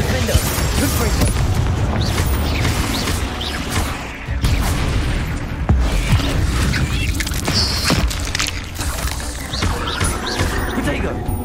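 Confringo fire spell blasts in the Hogwarts Legacy video game, repeated booming bursts and rumbling impacts amid dense, loud combat noise, with a voice shouting over the action.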